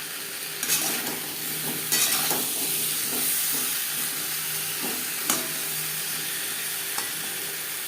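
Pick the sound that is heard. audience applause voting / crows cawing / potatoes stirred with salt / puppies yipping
potatoes stirred with salt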